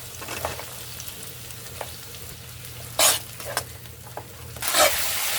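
A tomato curry for egg and pea curry sizzles quietly in a pan with a steady low hiss, broken by two louder, brief bursts of crackling as water and peas go in.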